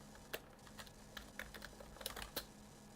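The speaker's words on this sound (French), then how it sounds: "Nous allons taper ici Gravity" Sparse keystrokes on a computer keyboard as a short word is typed, quiet individual clicks spaced irregularly over a faint steady background hum.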